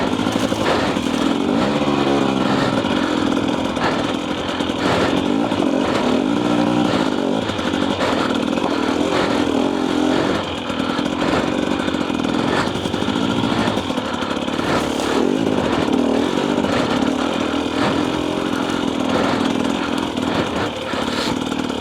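The engine of a 2024 Husqvarna TE250 dirt bike lugs at low revs on the trail, droning loud and close. The rpm wavers steadily as the throttle and clutch are eased over about twenty seconds.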